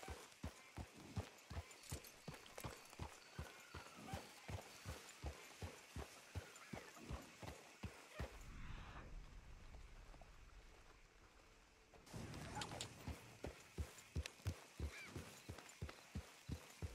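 Horse hooves clip-clop at a steady, even rhythm in Red Dead Redemption 2, close and moderately loud, with a brief pause in the middle when the hoofbeats give way to soft rushing noise before resuming.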